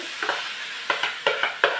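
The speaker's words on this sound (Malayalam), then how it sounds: "അരപ്പ് ചൂടായി അതിനകത്തൊട്ട് വാഴപ്പിണ്ടി തയ്യാറാക്കി വെച്ചതുപോലെ" Chopped banana stem hits hot paste in a pan with a soft sizzle, followed by several rhythmic scraping stirs, close and fairly loud.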